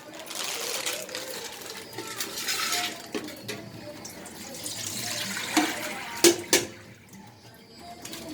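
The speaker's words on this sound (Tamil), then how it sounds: "தண்ணியை நம்ம என்ன பண்ணணும், வடிகட்டிடணும்." Water is poured off cooked sweet ragi vermicelli through a strainer, giving a close splashing, trickling pour that swells and fades, with a couple of sharp metallic clinks near the end.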